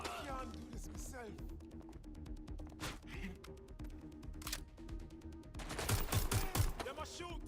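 Gunfire bursts in Watch Dogs Legion, rapid shots crackling through a busy game soundscape and swelling into a dense, loud volley near the end.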